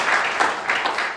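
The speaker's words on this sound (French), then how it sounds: "On peut s'applaudir encore pour dire merci d'être avec nous." A church congregation claps together to thank newcomers for being present, a short burst of lively, slightly uneven applause heard alone.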